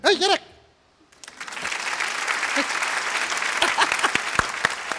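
Audience applause at a comedy show in Kerala breaks out as a dense wash of clapping that holds steadily for several seconds after a brief voice and a short pause.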